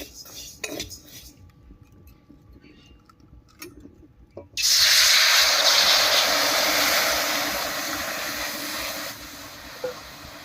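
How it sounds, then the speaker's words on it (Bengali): Water is poured into a hot pan of red-fried lentils, starting after a few quiet metal clinks and ending in a sudden loud hissing rush that slowly fades into steady bubbling sizzle, close and alone. "ডালটা বেশ লাল লাল করে ভেজে নিয়েছি এবার এর মধ্যে জল দেব"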